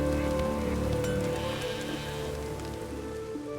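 Rain falling in The Witcher 3 video game, a steady close patter over a dense, tonal ambient background that holds level throughout, with no talk.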